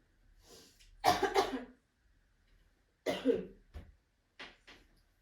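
A person coughs in several harsh bursts, two strong fits followed by shorter, lighter coughs and a throat clear, close and otherwise quiet.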